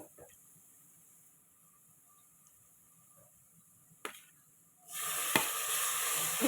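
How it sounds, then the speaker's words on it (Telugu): Tomatoes hit a hot pan for tomato dal, bursting into a loud, steady sizzle after a quiet stretch of faint frying and a brief clatter, then hissing on continuously. "ఇప్పుడు మనము టమాటో వేసుకుందాము"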